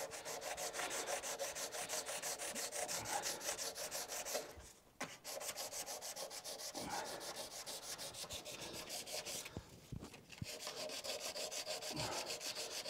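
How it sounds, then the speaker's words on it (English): Old paint is sanded on the body panel of a 2003 Holden VY Storm ute with a steady, quiet, rhythmic rasping of back-and-forth strokes and brief pauses between passes. "I'm just going to sand the old paint"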